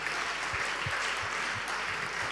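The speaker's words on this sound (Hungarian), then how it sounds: "nagy tapsot még egyszer!" A crowd at a Saturday-evening winter camp gathering gives a loud, dense round of applause, a continuous clatter of many hands sustained across the whole stretch with a few low thumps beneath.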